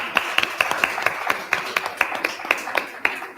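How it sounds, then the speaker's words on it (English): At a 2023 Freetown mayoral debate, a small audience claps for a speaker. The claps are sharp and fairly evenly spaced, moderately close and thin rather than a full roar. "Well, clap for Andrea."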